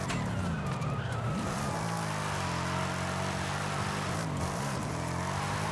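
Car drifting over gravel in Forza Horizon 5 on a MOZA R9 wheel setup, with a loud, steady game engine drone and tire skid noise holding for several seconds.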